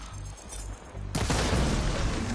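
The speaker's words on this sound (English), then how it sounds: "See those glowing crystals? Takes one hit to detonate." In the video game Horizon Forbidden West, glowing crystals detonate: a quiet rumbling lead-in gives way to a sudden loud blast, and a dense, crackling roar continues to the end.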